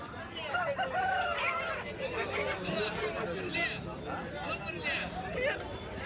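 A Parla-breed Kakitega rooster of about 3 kg crows close by amid a busy background of chattering voices at the Rayachoti market in Kadapa district.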